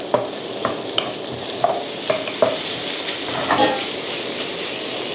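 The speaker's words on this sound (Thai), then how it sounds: "ผัดจนกว่ากุ้งกับปลาหมึกจะสุกนะคะ" Shrimp and squid stir-fry in a pan for a kimchi seafood pasta, a loud continuous sizzle punctuated by repeated clacks and scrapes of a utensil against the pan.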